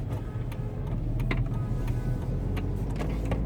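A manual-transmission car pulling away as the clutch is let out, heard from inside: a steady low engine rumble fills the cabin with faint ticking and small clicks on top, no talk.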